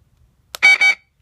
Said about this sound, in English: Now it's going to beep once.